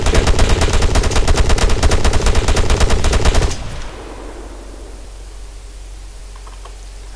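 In the video game ArmA III, an enemy character fires rapid, loud automatic gunfire close by for about three and a half seconds, then it stops abruptly and leaves a low ambient rumble.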